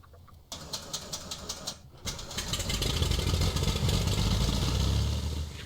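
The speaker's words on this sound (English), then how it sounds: "Start, then both after engine fires." An aircraft piston engine cranks over with a rapid rhythmic chugging from the starter, pauses briefly, then catches and settles into a loud, steady running roar that continues to the end.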